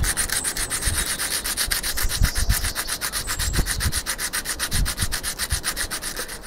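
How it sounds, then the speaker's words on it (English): A sandstone block rubs back and forth over wood, shaping a part for a prehistoric bow drill, with loud, close, rhythmic gritty sanding strokes repeating steadily throughout. "And the shape using a sandstone block."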